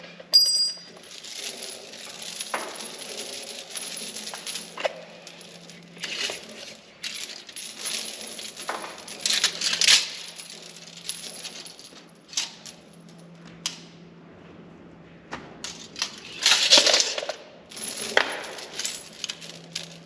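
Metal garage door hoist chain being cut to length and handled for a Fehr manual chain hoist, giving a run of light, irregular metallic clinks, rattles and jingles at close range, with bursts of brighter clatter and no talking.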